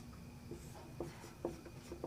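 Pen or chalk writing by hand during a maths lesson, soft scratchy strokes in short separate bursts roughly every half second, faint and close, with no talk over them.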